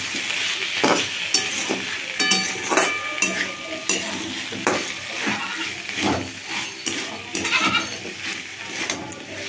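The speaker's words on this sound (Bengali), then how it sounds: "আগে এইটাকে দিয়ে ভালো করে ভাজবো, যাতে তিলের কাঁচা গন্ধটা পুরো চলে যায়" Sesame seeds fry and are stirred in a pan, giving a close, steady sizzle broken by repeated scraping and clinking strokes of the spoon.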